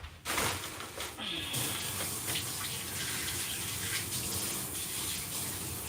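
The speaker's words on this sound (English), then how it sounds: "let me just quickly rinse my hand" Hands rinsed under a running kitchen tap while making puff puff dough, a loud steady gush of water filling the whole clip up close, with a brief change in the splash near the start.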